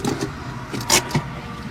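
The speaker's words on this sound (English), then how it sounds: "You roll your window down a little bit more for me, so I can hear you." A car's power window whirring down, a short motor hum with a faint rattle, heard close and alone.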